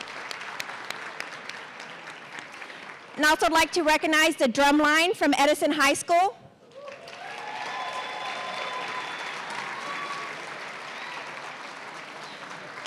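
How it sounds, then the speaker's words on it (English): An audience at a San Antonio school district State of the District event claps in sustained applause, following someone speaking over a microphone and a loud burst of drumline drumming. "let's give these incredible young men a round of applause"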